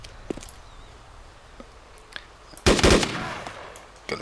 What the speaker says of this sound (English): Set my gun to burst fire and